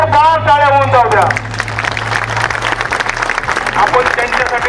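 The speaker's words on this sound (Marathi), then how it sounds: "त्यांच्यासाठी एकदम जोरदार टाळ्या होऊन जाऊ द्या" Crowd at a Maharashtra government employees' strike rally applauding hard for the union leaders, loud sustained clapping that follows a voice on a loudspeaker and continues under a low hum.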